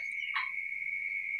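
A single close frog call, a short rasping croak followed by a sustained high trill, heard alone before the frog is fed to a pet snake.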